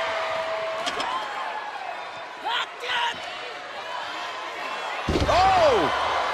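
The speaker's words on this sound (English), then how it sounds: "And Natalya knocks down Foxy" A wrestler slams down onto the mat in a WWE women's tag team video game match, several loud thuds and smacks over crowd noise with a commentator talking.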